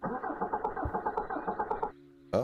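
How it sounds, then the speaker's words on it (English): A diesel engine in the Cataclysm DDA game cranks with a fast, rhythmic chugging for about two seconds, then cuts to a brief lower hum before a loud burst at the end. "you hear the diesel engine cranking and grinding"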